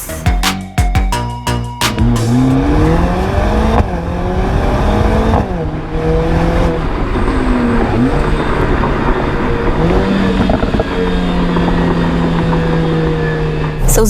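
A Mercedes-AMG CLA 45 S Shooting Brake with a four-cylinder engine drives on a road, loud and close, revs climbing and dropping through repeated gear changes after sharp crackles at the start.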